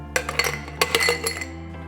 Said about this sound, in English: Then we're gonna add some ice.